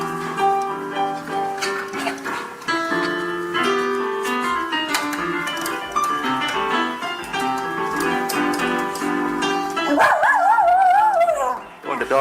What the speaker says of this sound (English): When the dog sings along.